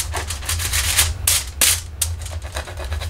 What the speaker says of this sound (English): I've got embossing powder right here on it. I think I can probably scrape that off.